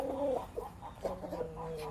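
A large, well-fed rooster in a breeding unit gives a few short, soft clucks and throaty calls close by, interrupted by brief pauses, with faint background noise.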